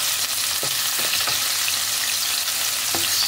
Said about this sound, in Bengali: হালকা করে লো টু মিডিয়াম ফ্লেমে আমি চিংড়ি মাছগুলোকে ভেজে নিচ্ছি